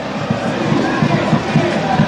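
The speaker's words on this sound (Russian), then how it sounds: "Радуются болельщики, которые пришли на стадион." Dinamo Minsk supporters in the stadium roar after a goal, a loud, steady crowd din with cheering and babble filling the space throughout.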